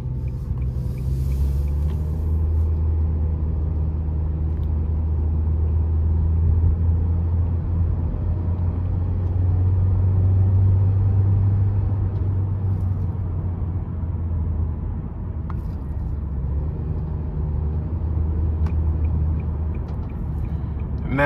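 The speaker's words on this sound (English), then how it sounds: "we're going to go ahead and take this 2023 Kicks SR out on the road for a quick test drive." A 2023 Nissan Kicks SR driving on the road, heard from inside as a steady low engine and road rumble with tire noise, holding constant throughout with no talking.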